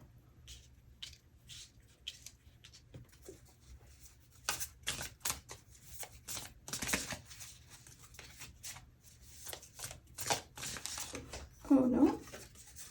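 Tarot cards being shuffled by hand at close range, with soft bursts of riffling and flicking that grow busier and louder toward the end, over a quiet room.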